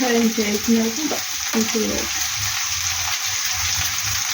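Tamarind leaf curry fries in a pan with a loud, steady close sizzle, while a voice is heard briefly over it near the start before the frying carries on alone.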